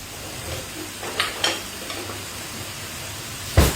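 Caponata vegetables frying in a pan at home, a soft steady sizzle with a few stirring scrapes and clatters, ending in a louder clunk, close with no talking.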